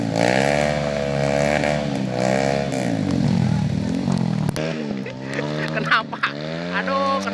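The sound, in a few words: motorcycle engine on a trail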